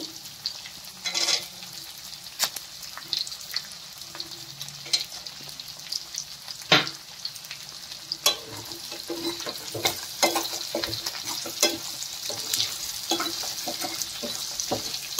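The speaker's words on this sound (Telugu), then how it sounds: "ఉల్లిగడ్డ మంచిగా ఫ్రై కావాలి." Onions fry in a pan for paneer masala curry, a constant sizzle broken by frequent sharp clicks and scrapes of a stirring spoon, close and clear with no speech.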